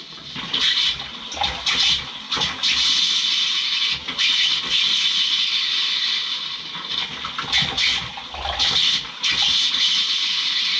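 Water gushes and sputters steadily as compressed air blows it out of an RV water line during winterizing, a continuous hissing splash with irregular surges and spurts, loud and close.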